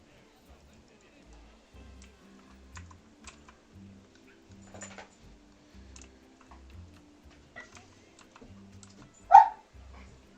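Dogs bark in the zoo-building game Planet Zoo, mostly faint and scattered, with one sharp bark near the end, over steady close computer keyboard typing.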